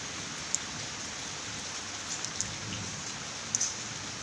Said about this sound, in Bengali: আমাদের এখানে দেখুন প্রচণ্ড বৃষ্টি হচ্ছে কয়েকদিন ধরে।